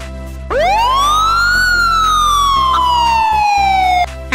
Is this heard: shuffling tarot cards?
no